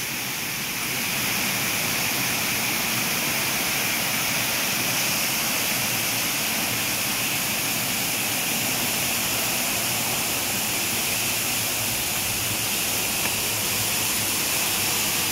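A man-made waterfall in a park, swollen after a typhoon, pours continuously with a broad, even roar that holds at a constant close level for the whole stretch, without speech.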